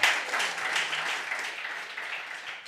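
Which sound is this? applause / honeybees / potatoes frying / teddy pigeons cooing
applause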